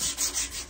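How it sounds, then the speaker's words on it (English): Sandpaper rubbing along a wooden tomahawk handle in steady back-and-forth strokes, close and fairly soft, a brief dry scratching rhythm with no talking. "right here, I have been sanding on this tomahawk handle"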